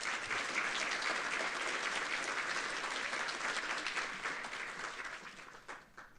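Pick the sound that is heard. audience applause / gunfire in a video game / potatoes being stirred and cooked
audience applause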